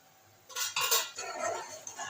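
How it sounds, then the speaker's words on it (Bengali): A metal lid clatters off a cooking pot of simmering whole Bombay duck fish curry: a brief, close cluster of clinks and scrapes lasting about a second and a half, with no voices. "ঢাকনাটা সরিয়ে নেব"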